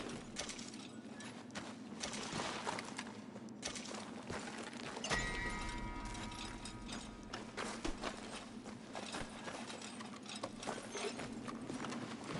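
Horse hooves in Red Dead Redemption 2 keep up a continuous clip-clop at a steady walking rhythm, close and fairly quiet, with creaking tack and faint rattling gear mixed in.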